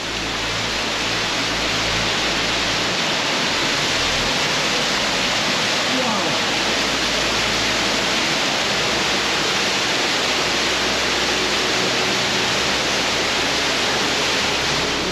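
An underground waterfall inside Yordas Cave roars as a loud, dense, unbroken rush of falling water, filling the space evenly from start to finish.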